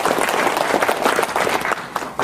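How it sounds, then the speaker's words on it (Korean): Audience applause at an indoor academic lecture in Korea, a steady wash of many hands clapping that fills the whole moment without pause. "여러분들 큰 박수로 환영해 주시기 바랍니다."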